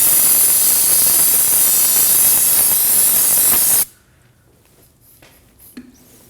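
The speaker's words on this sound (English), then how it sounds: "use some brake parts cleaner and spray the area to get rid of the excess fluid" Brake parts cleaner hisses from an aerosol can in one loud, steady spray around the rear brake of a 2011-2016 Kia Optima, cutting off abruptly after about four seconds and leaving faint handling noises.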